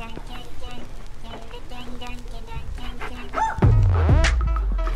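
A Labrador dog yips and barks close by near water, with short whimpering calls building to a louder burst near the end over background outdoor noise.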